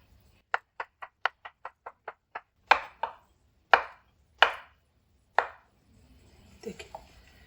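Knife chopping bananas into thick pieces on a board: about a dozen quick, even, close taps, then several heavier, spaced thuds, ending in soft handling noise.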